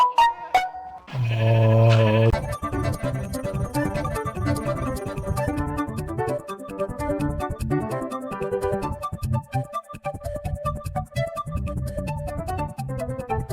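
A Minecraft sheep bleats once, loud and close, then gives way to steady game background music that carries on to the end.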